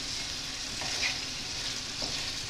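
Sauce for Liège meatballs, made with beer, Liège syrup and brown sugar, simmers and sizzles steadily in a pan as a continuous close hiss, with a couple of faint stirring scrapes.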